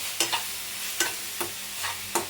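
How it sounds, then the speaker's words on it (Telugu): Gongura leaves frying in hot oil with dried red chilli powder as a spoon stirs them, making a steady close sizzle broken by five sharp scraping strokes against the pan. "ఆయిల్లోనే బాగా ఇట్లాగే వాడవాలి"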